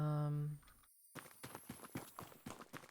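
In a video game, a horse's hooves clip-clop in quick irregular steps after a brief tone fades out, close and moderately loud, with game sounds around them.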